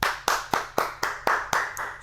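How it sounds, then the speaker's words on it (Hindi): Steady, sharp hand claps repeat about four times per second, close and loud, with a single person clapping in an even rhythm and no voices. "तालियां तो बजनी चाहिए।"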